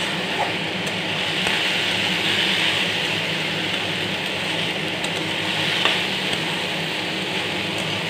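Bottle gourd peel frying in a pan with salt gives a steady, loud sizzle, while the spoon stirs through it with occasional faint scrapes.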